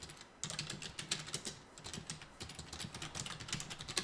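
Quick typing on a computer keyboard while entering an address or business name into a place search for a Naver blog post, a steady close run of light key clicks with no talk.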